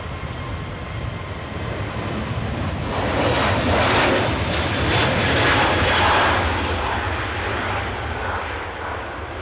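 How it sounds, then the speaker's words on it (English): A SunExpress Boeing 737 airliner arriving from Antalya roars steadily overhead, a broad jet rumble swelling and fading slightly over several seconds with no talk. "Sun Express 737 from Antalya, 3 minutes out"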